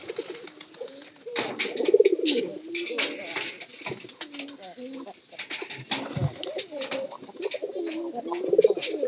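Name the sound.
pigeons cooing in loft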